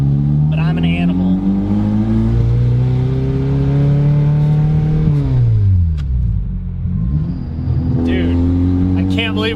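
A K24-swapped Toyota MR2 revs hard up a street, the engine note climbing through gears with a shift dip midway, loud and close from inside the car, with people talking over it.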